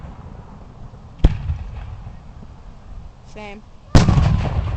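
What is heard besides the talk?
loud Canada Day fireworks exploding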